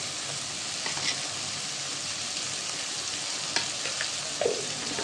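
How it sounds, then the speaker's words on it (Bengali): Spices, turmeric and salt frying and being stirred in a pan as the base for a chicken and potato curry, a steady close sizzle with a few soft scrapes and clicks, no talking. "মশলাটা কষানো হয়েছে,"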